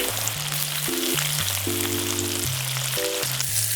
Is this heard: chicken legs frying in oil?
yes